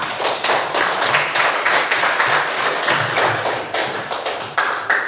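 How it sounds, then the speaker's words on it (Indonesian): Students in a classroom clap together in quick, loud, fairly rhythmic bursts, their hand claps close and dense with no talking over them. "Tepuk tangan untuk semua."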